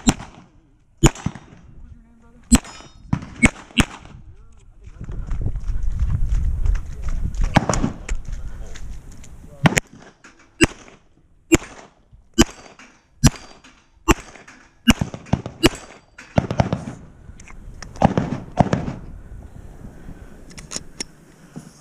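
Pistol and rifle shots ring out during a night shooting match, sharp cracks spaced irregularly across the stretch, some in quick pairs, with background noise and occasional talk between them.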